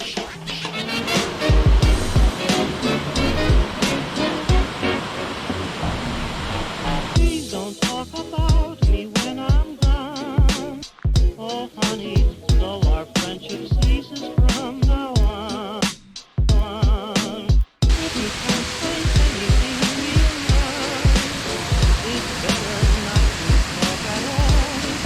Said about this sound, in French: je commence à entendre la chute d'eau